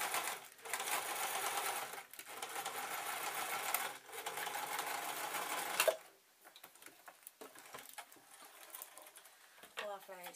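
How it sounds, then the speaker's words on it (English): Sewing machine running in steady bursts as it stitches scrap cloth for homemade rice-filled juggling bean bags, with brief pauses between runs and some handling noise after it stops. "put the cloth into the machine, and get it sewing"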